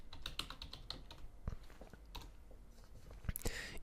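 A search being typed on a computer keyboard gives a close, uneven run of clicky keystrokes with small pauses between bursts, and nobody speaks.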